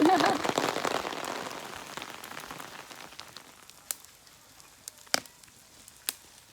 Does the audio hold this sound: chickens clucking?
no